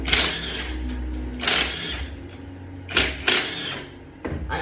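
A T47 bit works a pump bolt loose on a water-damaged 2015 BMW X5 transmission, giving several short sharp bursts of ratcheting and metallic clatter, close up, spaced by brief pauses.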